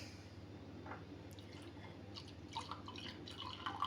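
Spilled honey milk drips and splats at home, faint, close drops scattered irregularly and growing busier toward the end, with no speech.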